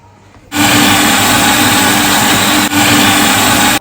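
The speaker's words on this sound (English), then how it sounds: "we are going to blend our Turkish berries, pepper, and tomatoes and add it to our soup" Kitchen blender whirring loudly as it purees Turkish berries, pepper and tomatoes for palm nut soup, a steady motor roar starting abruptly, dipping briefly partway through, then cutting off.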